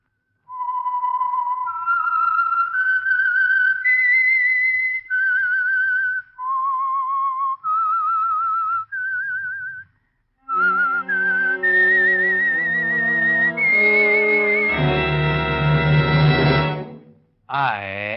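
A melodic whistled theme introduces the Signal Oil radio program The Whistler, rising and falling in clear sustained notes, then swelling into a loud orchestral passage that ends abruptly.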